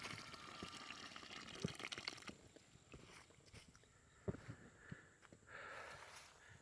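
Filtered water flows from a hose at a campsite in a steady, faint, low rush with a few soft splashes and knocks, heard alone at a distance.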